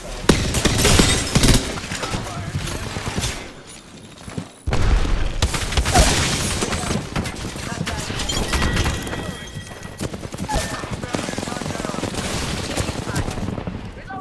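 Apex Legends battle with bursts of rapid automatic gunfire and sharp single shots, loud and close, repeating through the clip with a short lull, while players talk over it.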